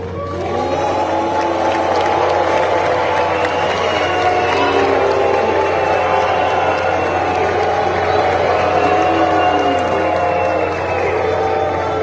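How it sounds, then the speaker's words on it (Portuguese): A large crowd at a climate conference in Salvador, Brazil, roars loudly and continuously against the Brazilian environment minister, a dense sustained wash of shouting voices lasting many seconds. "ontem ele acabou sendo vaiado pela manhã no terceiro dia da Conferência Climática em Salvador"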